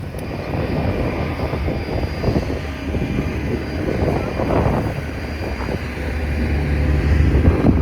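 A passenger airplane lands, heard from inside the cabin as a loud, steady rumbling roar of engines and rolling noise, rising slightly toward the end.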